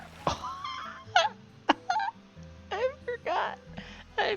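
Small slime creatures in a video game chirp and squeak in short, bright, warbling bursts, several scattered calls over a low background tone.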